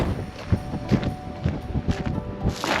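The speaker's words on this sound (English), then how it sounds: "It is so windy. All of a sudden, you just have a massive gust" Blustery wind buffets the microphone in rough, uneven gusts near an old castle in Spain, with low rumbling bursts rising and falling throughout.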